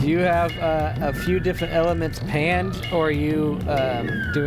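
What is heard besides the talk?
No everyday noise stands out behind the speech.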